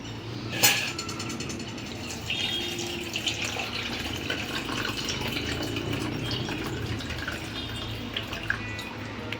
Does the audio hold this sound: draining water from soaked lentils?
yes